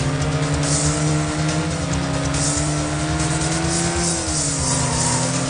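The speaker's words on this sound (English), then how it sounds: "It really does sound good, especially when you got the car rolling up right behind you." A race car engine drones loudly right behind the player in a retro racing video game, a steady buzzing tone that rises and falls with speed, alone and without talk.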